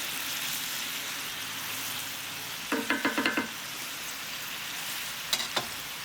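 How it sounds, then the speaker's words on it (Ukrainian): Beans with sausage and bacon sizzle steadily in a cauldron as the liquid cooks off, with a short burst of scraping stirring partway through and another brief clatter near the end. "Все, тепер ми його випарюємо."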